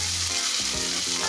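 Chopped onion sizzles and fries in very hot oil in a home kitchen pan, a steady loud crackling hiss that fills the whole moment, with light stirring and no voices over it.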